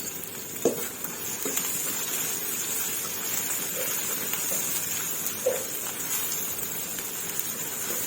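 Fish with chili stir-frying in a pan gives a steady, moderate sizzling hiss, broken by a few light clinks and scrapes of stirring, with no talking.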